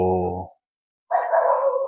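Dogs bark in a government housing area: a short barking burst, then a pause of about half a second, then a rougher, noisier stretch of barking, fairly close.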